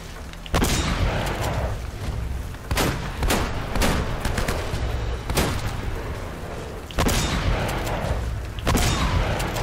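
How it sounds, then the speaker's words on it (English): Gunfire crackles in the video game Uncharted: Drake's Fortune, with loud close shots in bursts and single cracks, several volleys spread across the stretch with short echoing decays between them. "Alright, so he shoots 5 bullets."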